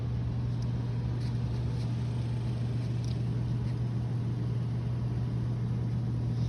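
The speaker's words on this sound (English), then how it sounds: "the vehicle is running" A 2006 Toyota Tacoma truck idling steadily, a continuous low engine rumble with a constant hum, unbroken and even throughout with no talk.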